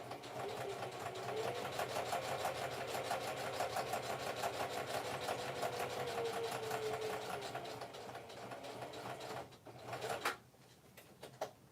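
A sewing machine runs steadily in a fast, even stitching rhythm, then slows and stops with a few clicks near the end.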